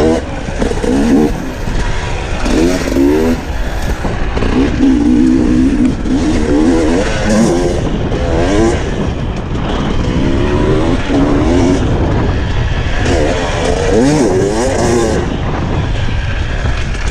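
GasGas 300 EC two-stroke dirt bike engine, loud and close, pulling hard and revving up and down through gears as it accelerates along a trail, with wind noise throughout.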